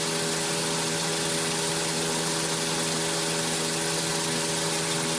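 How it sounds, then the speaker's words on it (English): Ford Laser engine idling steadily in a workshop while its radiator cooling fan runs during a cooling system service, a constant even hum with a broad whooshing rush from the fan, close and alone with no voices. "Oh, there goes the fan now."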